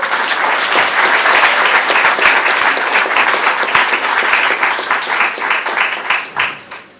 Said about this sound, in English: I would like to have a noisy round of applause for the recipients of this recognition